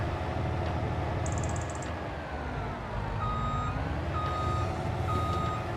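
Reversing beeps from a heavy vehicle in the video game Farming Simulator 25, a sharp repeated beep over a loud steady diesel engine rumble, with later whistling tones and no talk.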